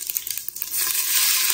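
Curry leaves hit hot coconut oil with mustard seeds in a pressure cooker, a loud, close crackle that swells into steady frying hiss.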